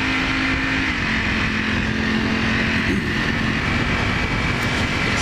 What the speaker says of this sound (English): this stock exhaust does sound pretty good